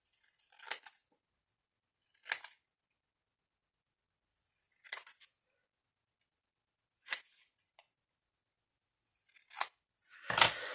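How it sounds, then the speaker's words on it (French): Scissors snipping scrapbook paper for a heart-shaped box, with five or six separate crisp cuts spaced a couple of seconds apart, close by and quiet, ending in a louder rustle of handled paper; no talking. "là pour l'instant je vais couper normalement"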